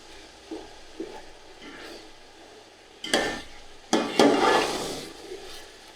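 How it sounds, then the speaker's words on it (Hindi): Green masala of smashed ginger, garlic and green chili is stirred into a chicken biryani base, with a low sizzle broken by a few loud, close scraping and clattering spoon strokes against the pot. "वो डालूँगा और इसको भी अच्छी तरह इसमें मिक्स कर लूँगा"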